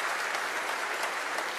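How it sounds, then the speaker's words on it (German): Steady, dense applause from an audience at a public conversation with Angela Merkel, a close, even wash of many hands clapping without pause and no voices standing out. "freuen Sie sich über diesen Applaus?"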